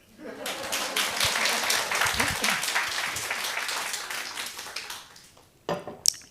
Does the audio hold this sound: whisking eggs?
no